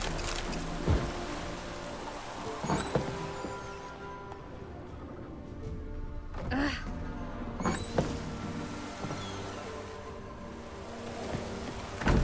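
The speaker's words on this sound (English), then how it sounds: "Oh, it's drizzling." Light drizzle patters steadily in the open-world fantasy game The Witcher 3: Wild Hunt, a continuous soft hiss with scattered drip taps and a few thuds over twelve seconds.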